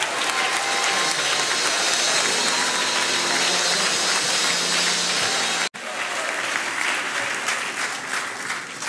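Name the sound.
audience applause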